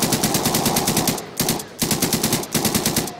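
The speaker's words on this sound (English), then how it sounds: "Come on, they're shooting." Automatic machine gun fire in the Garry's Mod video game, rapid rattling bursts of shots at a steady fast rhythm, loud and close, broken by two short pauses, with no voices.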